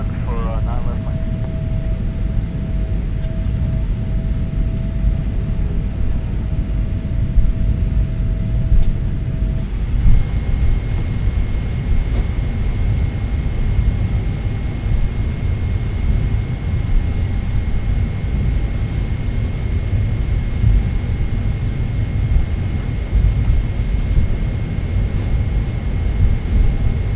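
Boeing 777-300ER airliner taking off from Singapore on a cloudy day, a loud continuous engine roar and rumble heard from inside the cabin, steady throughout with a thin tone shifting partway through.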